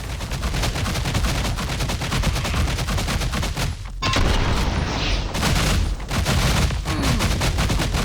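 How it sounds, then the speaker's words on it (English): Rapid gunfire and bullet impacts from the video game Scathe, a loud, dense stream of shots that keeps going with brief gaps around the middle. "And this sound of bullets hitting."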